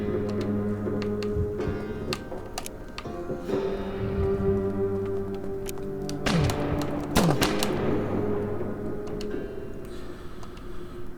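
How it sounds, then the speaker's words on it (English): An AK automatic rifle fires in the video game Outbreak, with sharp cracks and short bursts scattered across the stretch over a low droning game background, no talking. "Sort of the AK because it's just automatic fire"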